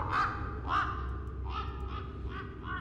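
Crows caw in the horror video game Rise of Insanity, five or six harsh calls spaced about half a second apart, moderately loud over a constant low ambient drone.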